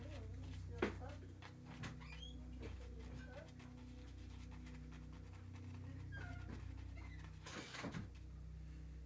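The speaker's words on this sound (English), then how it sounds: "he's the puppy" A puppy pants close by, with faint whimpers and a few sharp thumps over a steady low hum, all fairly quiet.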